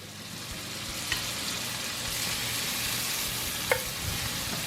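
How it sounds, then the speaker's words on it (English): Steak bites fry in Cajun-spiced garlic butter in a pan, giving a steady soft sizzle throughout with a couple of brief utensil clinks; no one talks. "we'll start getting our steak bites in there and getting them fried up"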